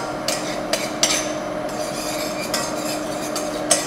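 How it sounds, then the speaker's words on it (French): Garlic being stirred in a pan over low heat, soft scraping with a few light clinks of utensil against the pan, steady and close under a constant sizzle. "On remue pour pas que ça brûle."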